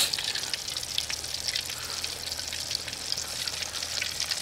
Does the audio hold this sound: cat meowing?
no